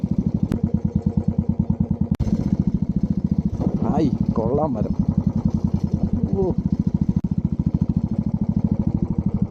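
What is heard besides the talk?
motorcycle riding along a forest path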